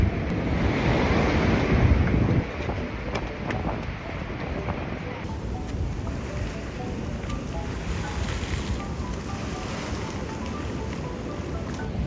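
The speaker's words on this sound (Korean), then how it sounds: "파도" Steady ocean surf rolls in at Bondi Beach in Sydney as a continuous broadband wash, louder in the first couple of seconds, with wind buffeting the microphone throughout.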